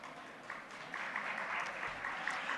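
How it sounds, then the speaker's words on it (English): Audience applause at a plenary session of a philosophy conference, a soft, distant patter of clapping that swells slightly and continues steadily for a few seconds. "please give a big applause"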